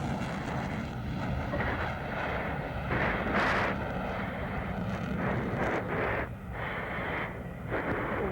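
A US Navy F-14D Super Tomcat jet performing an airshow demonstration in 1993, a loud, continuous roar of jet engines with broad rushing noise that swells and shifts as the aircraft passes.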